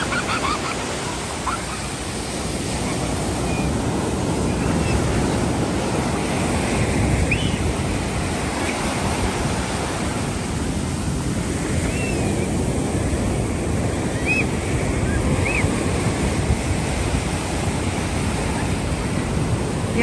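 Ocean waves break on a beach in a steady, loud, broadband wash of surf that lasts the whole stretch, with wind and a few faint distant honking bird calls.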